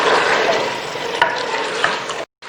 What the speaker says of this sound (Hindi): तो अब जो है हमने इसको और भूनना थोड़ा सा।